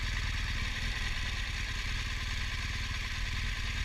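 A 2016 BMW R1200GS Adventure motorcycle's engine runs at speed, giving a steady, even drone mixed with heavy wind rush, with no talking.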